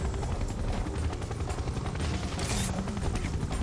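A helicopter in the action shooter game Serious Sam 3: BFE, its steady dense rotor roar holding at loud level throughout, with no talking.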